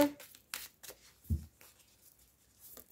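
Oracle cards being shuffled and handled, a few short soft riffling and slapping bursts close by, with quiet pauses between them.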